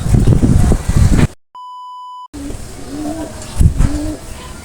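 Racing pigeons arriving at a loft at the end of a 535 km semi-final race from Calbayog City, with cooing birds up close, one steady electronic clocking beep, and people talking throughout.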